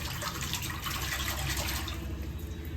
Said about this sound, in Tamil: இப்போ இது வந்து எறா வாஷ் பண்ணுறதுக்கு